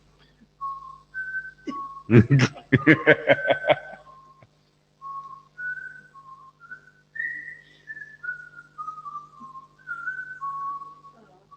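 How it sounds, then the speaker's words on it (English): Someone whistles a wandering, sustained tune, broken by a brief burst of speech early on, then continuing alone, close and moderately loud. "Yes, please whistle."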